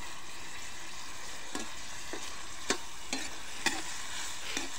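Food stirred in a pot over a wood fire at a mountain camp, a soft steady frying hiss with half a dozen light scraping strokes spaced about half a second apart, close by, with no voices.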